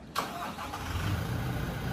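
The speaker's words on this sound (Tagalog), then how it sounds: "So, start mo na rin yung makina." A Toyota GL Grandia van engine cranks and catches with a short burst, then settles into a low, steady idle.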